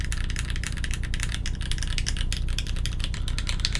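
Someone types continuously on the shift row of a Keycult No2 mechanical keyboard, a close, even patter of deep-toned keystrokes with no voices over it.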